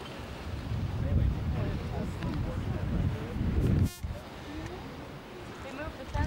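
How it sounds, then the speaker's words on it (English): Wind gusting on a cold day at the Atlantic coast near a lighthouse on Cape Cod, a steady broadband roar with microphone buffeting and a brief dropout partway through, with voices talking faintly underneath. "Cold, windy day."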